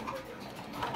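Pigeons coo softly and continuously in a pigeon-keeping setting, a low murmuring bird call with faint background bustle throughout.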